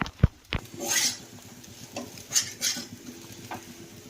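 Semolina upma being stirred in a pan over a low flame, with spoon scrapes and clinks on the metal pan over a faint sizzle, no talking.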